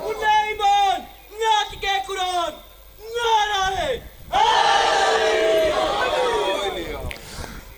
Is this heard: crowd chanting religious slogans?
yes